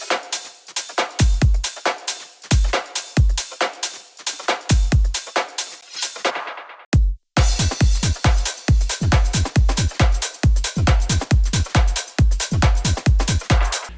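An electronic drum beat plays up close, with punchy kicks, a syncopated counter kick and dense, crisp garage-style hi-hats in a steady loop, broken by a brief dropout near the middle before the groove resumes with no voice.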